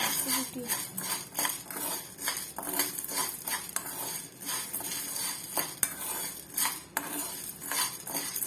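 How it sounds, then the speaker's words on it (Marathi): Dry sago pearls stirred with a spoon while roasting in a kadhai over a medium flame: a continuous rattling, scraping clatter with sharp metallic clinks, close and steady, with no talk. "गॅसवर पुन्हा कढई ठेवायची व यामध्ये आता एक वाटी शाबू घालायचे तर गॅसची फ्लेम मीडियम ठेवायची आणि हे शाबू चांगले भाजून घ्यायचे"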